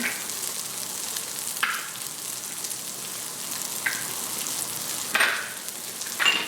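Butter melts into rendered fat in an Instant Pot, giving a soft steady sizzle punctuated by a few brief louder spatters or stirs, with no one speaking.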